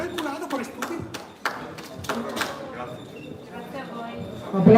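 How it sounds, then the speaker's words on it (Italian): Scattered hand claps from the audience at an amateur interregional boxing event ring out as sharp, irregular bursts, with a voice speaking over them. "Applauso meritato"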